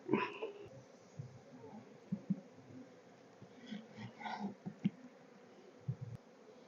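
Honey bees buzz faintly around an opened hive during a messy inspection of cross-built comb, a soft, steady drone with occasional louder bumps and knocks close by.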